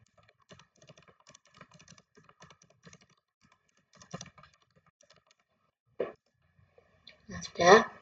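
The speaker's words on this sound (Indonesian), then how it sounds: "Nah, kita ketik." Someone types on a computer keyboard while entering accounting data, sparse clicky keystrokes in short bursts, with a few louder taps and clacks near the end.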